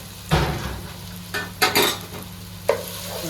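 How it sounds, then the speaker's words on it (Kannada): Prawns tipped into a pan of softened tomato masala for Mangalorean prawns sukka, a few sharp clanks of spoon against pan and brief stirring scrapes with a light sizzle underneath. "ನಾನೀಗ ಪ್ರೌನ್ಸ್ ಹಾಕ್ತಾ ಇದ್ದೇನೆ"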